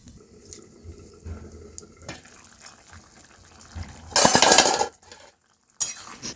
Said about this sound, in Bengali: ঢাকা দিয়ে দেবো।